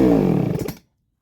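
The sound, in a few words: Baumr-AG SX92 chainsaw engine starting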